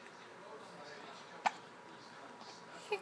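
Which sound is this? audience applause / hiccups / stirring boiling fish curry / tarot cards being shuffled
hiccups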